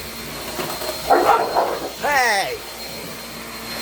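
A household vacuum cleaner drones steadily through a short indoor stretch while dogs get worked up nearby, a bark or whine rising briefly; a person speaks over the noise.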